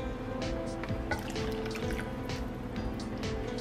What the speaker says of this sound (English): And then I'm going to add a 1/2 cup of water.